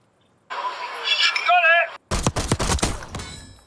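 Call of Duty pistol fire rings out in a quick cluster of sharp, loud shots, following a stretch of talking voices.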